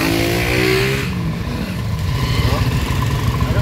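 A car engine with a ticking, noisy fault runs close by with a rough rev that settles into an uneven idle, while people talk over it.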